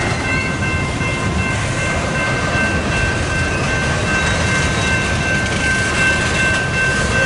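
BNSF coal hopper freight train passing in Lincoln, Nebraska, a continuous loud roar of wheels on rail with steady rumble and a faint high squeal throughout.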